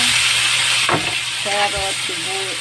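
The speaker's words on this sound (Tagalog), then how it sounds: "Prito ulit tayo ng bawang." A steady sizzling hiss of garlic frying in a pan fills the clip, with brief clatter and a few faint voices over it.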